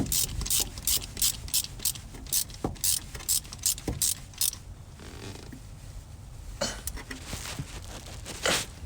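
Stubby ratchet tightening a spark plug on a Chevy Express van, a rapid series of sharp close clicks from the pawl in quick strokes, then a pause and a few more clicks.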